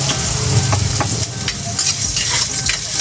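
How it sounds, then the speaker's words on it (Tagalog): Ginger sizzling and frying in a pan as it is sautéed with a spatula stirring through it, a steady close crackle with scraping stirs, no talk. "Ginigisa ko na itong ating"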